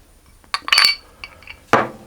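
Oil and vanilla extract going into chocolate loaf cake batter, heard as a few light clinks and taps of a spoon or bottle against a bowl, plus a soft pour-like rustle, close and quiet.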